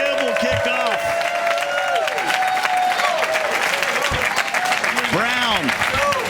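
Live crowd at the Madden Challenge Championship in LA applauding and cheering loudly at the kickoff, a dense, steady roar with sweeping tonal effects and commentators talking over it.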